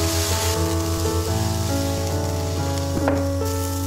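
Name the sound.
water added to stir-fried tomatoes and salt, heating to boil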